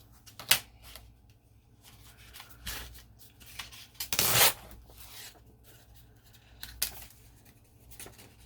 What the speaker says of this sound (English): I think I'll tear it.